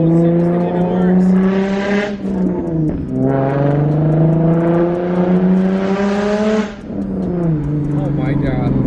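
A Nissan 350Z fitted with a bolt-on turbo whistle accelerates hard through the gears, its loud engine rising in pitch, dropping at each shift, then climbing again; the note is close and dominates throughout, with any whistle buried under it.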